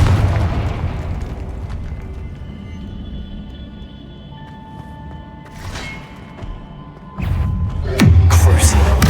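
Confringo spell blasts in the wizarding game Hogwarts Legacy, a loud booming burst near the end over a steady game rumble, with other spell effects and a voice speaking earlier.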